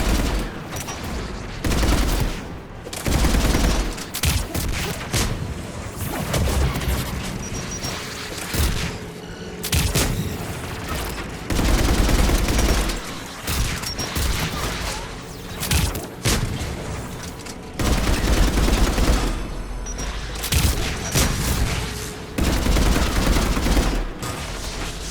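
Gun turret firing in the Mass Effect 3 video game, loud dense bursts of gunfire and booming impacts that pulse and pause throughout, close and continuous with no talk.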